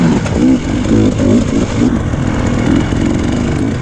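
An enduro motorcycle is ridden through deep ruts on a muddy track, its engine revving hard in choppy bursts, loud and close.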